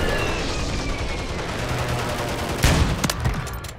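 Call of Duty battlefield gunfire near a winery, with a dense wash of distant shots that ends in a few louder, sharper cracks close by, no talk.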